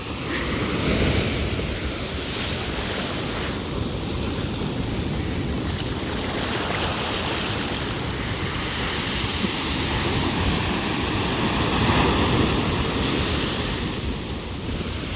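Atlantic Ocean surf on Tenerife pounds the shore in a steady, loud roar of breaking waves, mixed with wind buffeting the microphone, with no voices.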